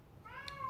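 A cat gives a short, faint meow in a quiet indoor room, a single soft rising cry with a little background noise.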